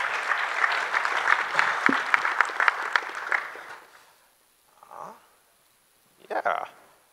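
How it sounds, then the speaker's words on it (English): Applause from a hackathon audience for the first-place winners, a dense burst of clapping for several seconds that fades out, followed by a couple of short spoken remarks in a quiet room. "Clap."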